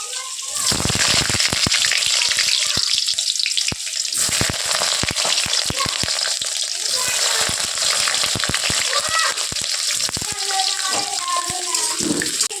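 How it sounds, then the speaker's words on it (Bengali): Loud, steady sizzling and crackling of vegetables frying in hot oil for a pumpkin-greens chechki, close up, with brief clatters and some background noise throughout. "তেল গরম হয়ে গেছে, এবার আমি সবজিগুলো ভেজে নেব।"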